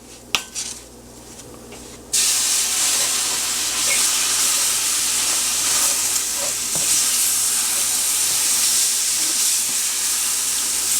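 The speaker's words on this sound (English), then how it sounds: "Keep stirring until it's nice and mixed in together." A spoon stirs vegetarian sausage gravy with flour in a hot pan, a steady loud sizzle and frying hiss throughout, with occasional scrapes and clinks of the utensil against the pan.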